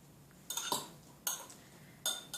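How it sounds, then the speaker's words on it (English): A spoon clinks against a mug while sugar is stirred into French onion soup, three short bright taps spaced apart, close and fairly quiet, with no talking. "Stir that in."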